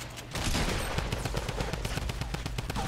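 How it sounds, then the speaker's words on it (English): Fortnite Battle Royale weapons fire in a fast, steady string of punchy shots and booms that runs for about two and a half seconds, close and loud, with no talking over it. "I'm shooting grenade launchers"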